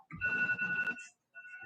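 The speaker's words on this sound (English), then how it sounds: "First of all, that is my alarm." An alarm rings with a steady high electronic tone for about a second, pauses briefly, then starts again, fairly close and alone with no talk over it.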